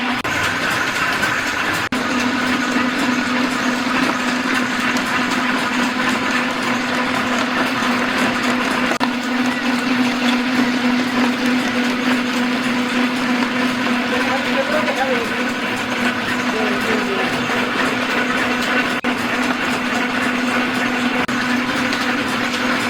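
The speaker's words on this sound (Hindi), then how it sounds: "कोई और का तेल निकल रहा है अभी, तो मशीन का बहुत आवाज़ आता है।" A mahua oil expeller machine presses seeds for oil, running as a loud, continuous mechanical drone with a steady hum throughout, no pauses and no speech.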